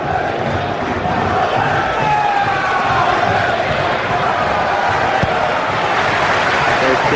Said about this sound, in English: you can tell by the atmosphere the crowd are up for it as well